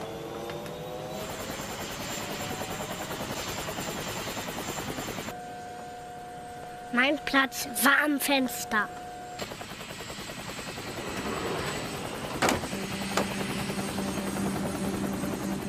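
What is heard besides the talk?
helicopter flying, from a cartoon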